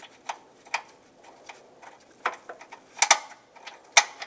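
A bolt being threaded by hand into a front bumper impact absorber on a 2014–2021 Mazda 6, with sparse light metallic clicks and ticks of the bolt and tool, close and quiet.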